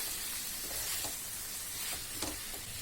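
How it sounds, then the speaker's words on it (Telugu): Chopped tomatoes frying in a pan for paneer butter masala, with a steady soft sizzle and a few faint stirring scrapes, fairly quiet and close. "టమాటాని యాడ్ చేసుకున్నాం ఒక టూ మినిట్స్ కలుపుకోండి"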